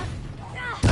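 A Confringo spell blast in Hogwarts Legacy erupts as a sudden, loud, booming burst right at the end, after a brief stretch of quieter game ambience.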